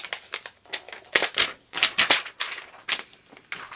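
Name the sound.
paper wrapping being removed from a makeup palette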